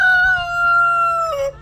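A broody hen kept outdoors gives a loud, drawn-out squawking call, close and clear, holding steady before dropping in pitch and breaking off at the end, with no voices over it.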